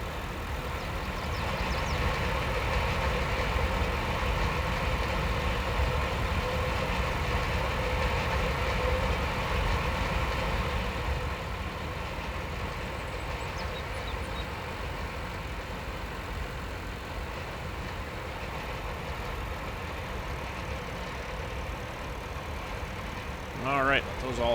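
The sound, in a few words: tractor engine running in Farm Simulator video game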